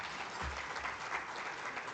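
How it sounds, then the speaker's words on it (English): Audience applause at the launch of upgraded Namibian banknotes and coins, a distant, fairly faint, even patter of many hands clapping in a large hall, continuing steadily throughout. "Another round of applause to our minister,"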